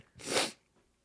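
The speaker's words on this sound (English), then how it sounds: "I'm going to sneeze." A single close sneeze from a person, one sharp breathy burst lasting about half a second, alone against a quiet background.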